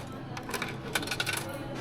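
Several coins are dropped one after another into a coin slot of a plastic recycling machine in Japan, making quiet metallic clinks and rattles that cluster toward the middle.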